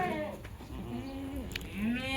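Several goats, part of a group of 22, bleat in overlapping wavering cries, close by, against a steady farmyard background hum.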